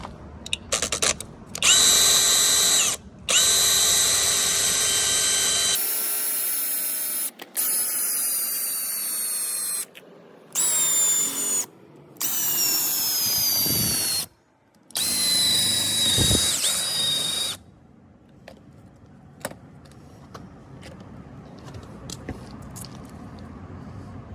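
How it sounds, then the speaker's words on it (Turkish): A cordless drill whines in repeated bursts of varying length, loud and close, drilling through a stuck valve cap, separated by brief pauses, with small clicks and handling noises as it winds down. "buradan tutup şarjı matkabımızı Sibob'un kapağını delikiyoruz."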